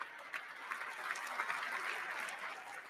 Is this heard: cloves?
no